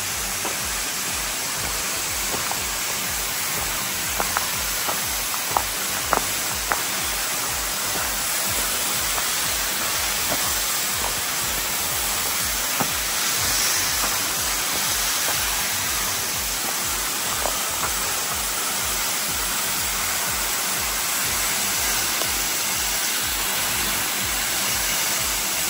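Yahoo Falls in Big South Fork pours over a large rock shelter, a constant broadband roar of falling water that stays even throughout, with a few faint knocks and no talk.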